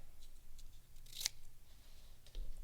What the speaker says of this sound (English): And then we're going to cut it in the center.